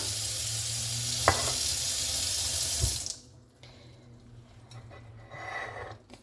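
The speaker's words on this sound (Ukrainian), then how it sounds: "І зараз просто зараз набираю водичку із крана." Water runs from a kitchen faucet into a container, a steady close hiss and splash lasting about three seconds before the flow cuts off, leaving quieter drips and small sounds.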